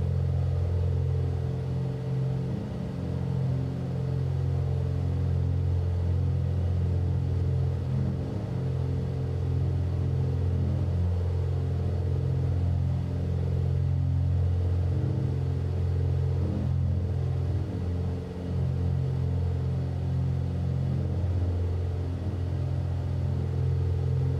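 A simulated aircraft engine in X-Plane holds near 2,500 RPM, a loud, steady low droning hum with a constant pitch that barely wavers for the whole stretch, no voices over it.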